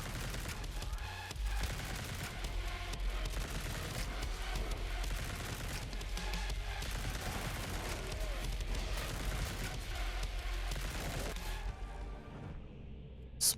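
Dense, nonstop gunfire from a grimdark survivor video game: rapid shots and booming impacts pile into a loud, continuous barrage that runs almost the full length before cutting off sharply near the end.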